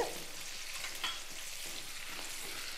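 Tomatoes soften and shrivel in a pan for a tamarind curry, giving a steady, even sizzle and crackle at medium heat, close up, with no talking.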